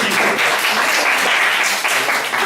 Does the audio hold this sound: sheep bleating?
no